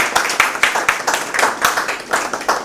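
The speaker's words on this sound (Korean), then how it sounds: "오늘 유호연 대표님께 먼저 좀 박수 좀 보내드릴까요?" Lecture audience clapping for the tobi.ai CEO after a talk on AI, a short burst of distinct, fairly loud hand claps in an uneven patter.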